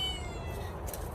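A stray cat, just back after six days missing, meows at close range over a steady, noisy outdoor background. Nobody speaks during the short call.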